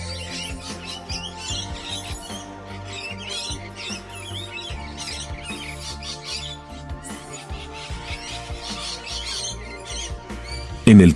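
Dense, overlapping chirps and squawks from many birds calling at once, a steady busy chorus of parrot-like cries with low rumbling underneath throughout.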